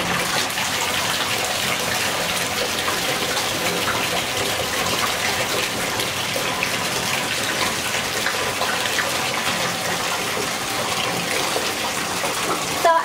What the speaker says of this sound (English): the water's just running right through it, so it's creating its own little bubble